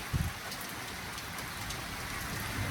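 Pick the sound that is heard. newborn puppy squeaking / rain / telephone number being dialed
rain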